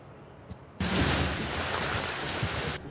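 Heavy torrential rain pours down as a dense, even hiss that starts abruptly after a quiet moment and stays loud and unbroken until it cuts off near the end, with no talk.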